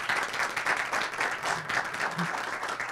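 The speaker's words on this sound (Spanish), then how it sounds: "Un fuerte aplauso para ellos." An audience at a public event in the Dominican Republic claps in a steady, continuous burst of applause, moderately distant and even in level.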